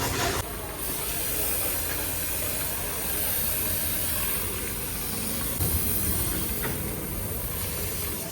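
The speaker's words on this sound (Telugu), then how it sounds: "బండి వాష్ చేస్తుండే ఆయన" A motorbike washed with a pressurised water spray in bright sun, a steady loud hiss of jetting water running continuously close by, with only small shifts in intensity and no talking.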